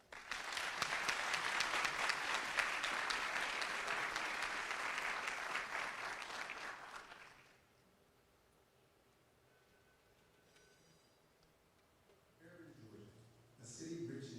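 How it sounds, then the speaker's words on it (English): An audience at a city's State of the City address applauds the mayor, city council and department heads with loud, dense clapping for about seven seconds, then it cuts off into near silence before faint voices return. "Please join me in giving a round of applause to our mayor, city council, and department heads."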